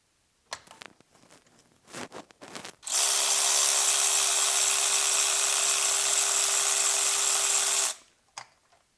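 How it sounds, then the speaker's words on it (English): A power ratchet spins a spark plug out of a 1990–2000 Mazda Miata engine, running as a steady, loud, high-pitched whir for about five seconds, preceded by a few clicks and handling noises. "You could use a ratchet or a power ratchet like what I have here."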